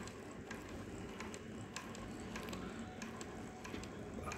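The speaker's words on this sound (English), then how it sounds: "So our handle is rotating and we have caught the thread like this" The handle turns on a Mannan King chainstitch embroidery machine, making a faint, steady ticking and whirring with soft repeated clicks.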